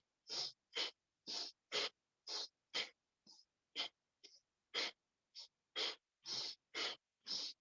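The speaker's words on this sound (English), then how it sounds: "Powerful breath." Forceful rhythmic breaths in a Kundalini yoga exercise, sixteen sharp bursts of air spaced about half a second apart, close and loud, with a few softer ones in the middle and silence between each.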